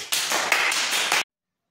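A group of schoolchildren in a government school classroom claps in a quick, close burst of about a second, then stops abruptly into silence.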